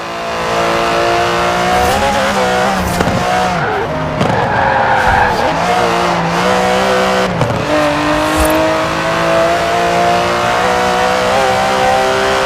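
An Aston Martin DB11 in a Forza Horizon 4 race roars loudly and continuously, its engine note rising and dipping through gear changes with tire skids and squeals, close and dominant throughout.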